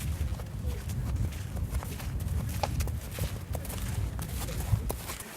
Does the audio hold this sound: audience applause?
no